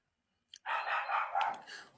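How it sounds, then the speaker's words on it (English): A neighbor's dog barks in a short, distant-sounding burst of yelps and barks after a brief moment of quiet, heard alone without talk. "Today you'll forgive my neighbor's dog."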